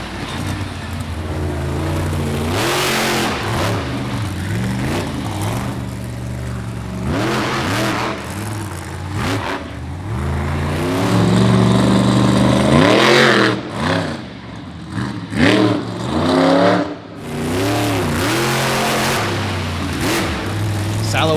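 The Lumberjack monster truck revs its big engine at Mansfield Motor Speedway during an All Star Monster Trucks show, with repeated loud, rising and falling roars that surge and drop, then choppy bursts near the end.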